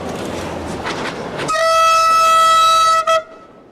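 Portuguese diesel locomotive No. 1204 pulls away from Évora with a passenger train, its engine rumble giving way to a loud, sustained two-toned horn blast lasting over a second before cutting off abruptly.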